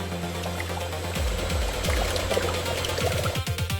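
Coconut water being extracted and poured into a closed stainless system gurgles and splashes steadily, with a continuous liquid rush and repeated bubbling pulses under machine hum.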